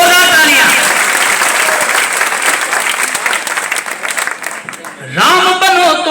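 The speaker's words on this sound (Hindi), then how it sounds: "तो फिर तालियां पीछे तक एक बार होनी चाहिए आपकी, जोरदार तालियां।" Loud, sustained applause from a large audience at an all-India patriotic poets' gathering, dense clapping filling several seconds, with a voice speaking over it at the start and the ovation swelling again near the end.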